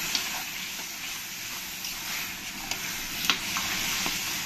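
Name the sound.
boiled taro being stirred and fried in a pan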